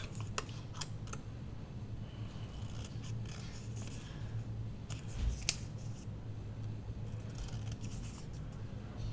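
Paper being trimmed with scissors at a crafting table, making a few quiet, scattered snips over a low steady background hum, with no talking.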